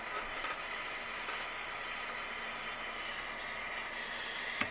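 Steady hissing roar of a torch flame heating borax-sprayed silver for soldering, continuous and fairly close with no talk.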